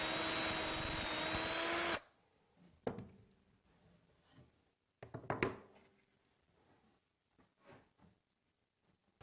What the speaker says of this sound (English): With the centers marked, drill holes for the fasteners.